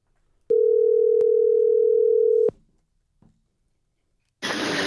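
Telephone dial tone before a call, a single loud steady hum for about two seconds, then silence and a faint click before a burst of noisy line sound.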